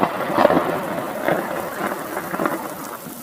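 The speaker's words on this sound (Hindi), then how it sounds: "एक दिन बरसात के रात में जंगल में बहुत तेज बारिश हो रही थी।" Heavy rain pours over a forest at night, a dense steady hiss of falling drops with brief low rumbles of thunder mixed in, fairly loud and continuous.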